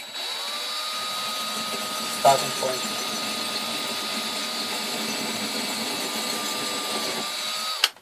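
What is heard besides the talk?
power drill drilling a hole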